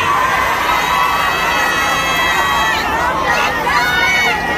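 A crowd at a weekend stage show cheers and shouts continuously, a dense loud wash of voices with some high-pitched screams rising and falling, sustained throughout.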